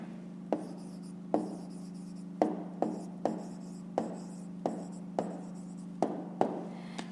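A pen writes an answer on paper during a fifth-grade maths exercise: a run of soft scratchy strokes punctuated by sharp taps every second or so, close up over a steady low hum.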